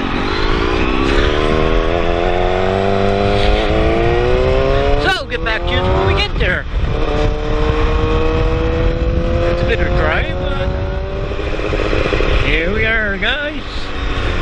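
Loud motorcycles rumble and rev nearby at the Port Dover Friday the 13th bike meet, with engines rising and falling as bikes pass and voices talking throughout.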